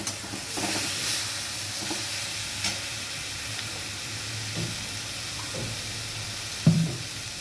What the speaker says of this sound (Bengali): মশলাটা এবার আমি এর সঙ্গে ভালোভাবে মিশিয়ে নেব।